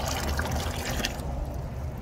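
Water pours into a small tadpole pond as a steady, close splashing trickle that eases off toward the end.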